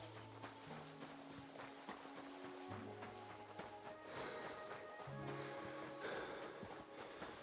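Horses clip-clop along a medieval road in the game Kingdom Come: Deliverance 2, a steady faint rhythm of hooves under background music tones, with no voices.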